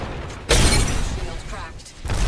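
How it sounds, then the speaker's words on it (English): A player's shield cracks in the Apex Legends video game with a sudden bright shattering burst partway through, ringing briefly before fading, with a voice talking around it. "Shield cracked."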